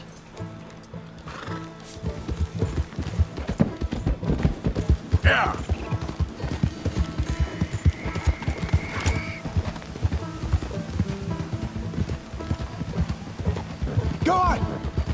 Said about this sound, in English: Just get on the horse.